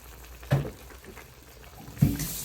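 Water splashing into a cooking pot while making Ilonggo-style paksiw, two short pours about a second and a half apart, fairly close and moderately loud over quiet kitchen background.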